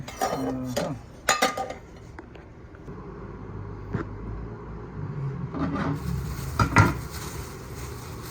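Soft sizzling of saba bananas frying in a pan, with utensil clinks and scraping near the start and occasional clatter over the steady hiss.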